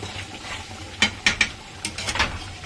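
Curry gravy stirred with a spoon in a kadai, giving a few close, distinct scraping clacks in two short bursts over a low steady hiss.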